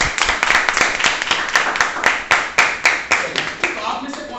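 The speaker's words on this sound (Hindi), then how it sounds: "तो एक बार जोरदार तालियां करें मनीषा जी।" An audience claps in response to a call for loud applause at a motivational talk on digital marketing, with sharp, fairly close, uneven bursts of hand claps that gradually thin out as a voice speaks over them.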